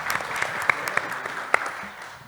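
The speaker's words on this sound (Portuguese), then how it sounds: "Merecia aplauso agora" Scattered applause from an audience at a cardiology case presentation on coronary artery disease, a steady patter of claps with a few sharper single claps standing out, moderately close and fading slightly toward the end.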